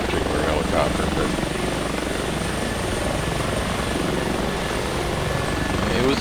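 Simulated Airbus H145 helicopter in X-Plane 11, a steady broadband rotor and turbine drone holding at constant loudness throughout, with a voice talking faintly over it.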